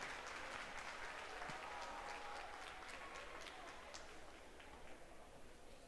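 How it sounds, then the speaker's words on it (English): Crowd at a school livestock lamb show applauding exhibitors, a steady wash of clapping heard from some distance in a large arena, slowly fading, with faint voices underneath. "Hey, give them a round of applause."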